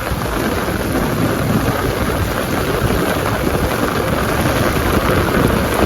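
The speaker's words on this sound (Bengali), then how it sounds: "ভাই কি পরিমাণে বৃষ্টি নামছে জাস্ট দেখেন।" Heavy rain pours down steadily in Cox's Bazar, a dense, loud, continuous hiss and patter of drops striking surfaces, with no breaks and no voices.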